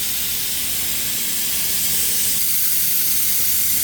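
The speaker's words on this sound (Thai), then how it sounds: "ผมก็จะให้ทางป๋าเขาช่วยดูดนะครับ เพื่อเอาคราบของ น้ำมันฝัดชิ่งออกให้หมดนะครับ" A suction pump draws old power steering fluid out of a car's reservoir, a steady loud hiss with a rough gurgling texture running unbroken throughout, no voices.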